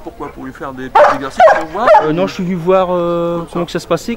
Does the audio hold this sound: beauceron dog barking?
yes